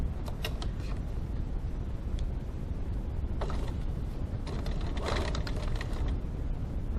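A domestic sewing machine runs steadily, stitching fabric over foam with a 1 cm seam allowance, giving a continuous close mechanical whir with faint creaks and ticks throughout.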